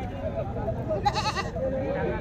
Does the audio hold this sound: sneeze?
no